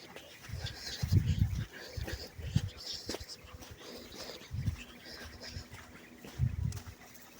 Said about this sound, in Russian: Это мой песик.